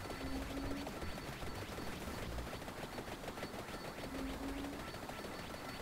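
Rapid, continuous spread gun fire in the video game Vampire Survivors, a dense stream of small synthetic shots with steady crackle and occasional short tonal game beeps, fairly quiet throughout.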